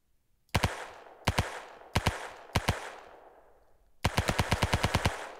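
Machine gun fire in the video game Ancient Warfare 3 comes as four short bursts of a few rapid shots each, then a longer rattling burst, loud and close.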